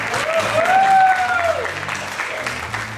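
An audience claps together in a room during a church night show, a steady burst of applause lasting about three seconds with a bright whistle-like tone gliding over it.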